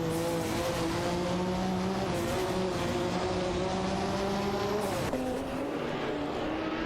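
Engines roar continuously in a racing video game as a Ferrari F40 Competition battles a Porsche 961 LM, with loud, sustained revving tones that shift pitch at gear changes.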